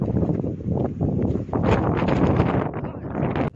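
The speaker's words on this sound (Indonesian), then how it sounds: "Lagi angin." Wind blowing outdoors in snow near a residential area on a walk toward a church with a mountain view, gusty buffeting noise hitting the microphone in uneven surges, loud and close throughout.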